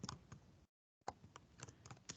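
Typing on a computer keyboard, quick bursts of keystrokes with a short pause in the middle, close and fairly quiet with no talking.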